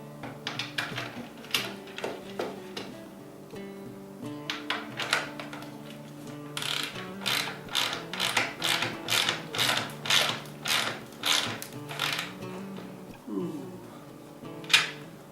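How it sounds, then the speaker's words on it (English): Bolts are ratcheted tight on a wooden table, a close run of rhythmic clicking strokes in quick bursts, with faint speech in the background. "Tighten up the bolts."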